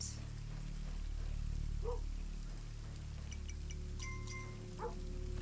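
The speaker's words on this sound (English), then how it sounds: "Yep, the dog's barking, which means enemies are afoot." A dog barks in the pixel-art strategy game Kingdom Eighties, a few short yips spread out over a steady background of ambient hum and soft game music.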